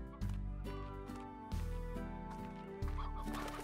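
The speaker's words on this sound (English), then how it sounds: "There's like a billion hens running around here." Hens cluck in the video game Slime Rancher, a loud repeating series of tonal calls in short overlapping phrases, alongside the game's steady background sound.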